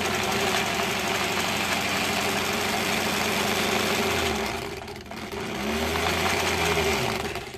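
A hefty sewing machine stitching quilt pieces for improv piecing, running in a steady close whir, slowing briefly near the end before resuming.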